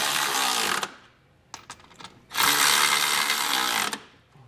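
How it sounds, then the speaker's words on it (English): A hand tool drives the bolts of a Curt trailer hitch on a 2023 Kia Telluride with a 17mm socket: two sustained bursts of harsh mechanical whirring, separated by a few short ratcheting spurts, close and fairly loud with no talking. "So now we'll go through and tighten up our bottom bolts with a 17mm socket."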